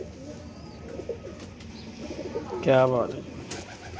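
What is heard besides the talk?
pigeons cooing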